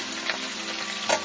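Flat beans and eggplant sizzle in hot oil in a pan alongside already-fried raw banana and papaya, a continuous crackling fry with a couple of sharper spatters near the end.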